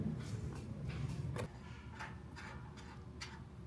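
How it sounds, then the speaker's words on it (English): Roofing nail guns at work some distance away during roof damage repairs, heard as a faint series of irregular sharp taps over low, steady background noise, with about ten thin hits spread across a few seconds. "So I'm sure you can hear the nail guns in the background."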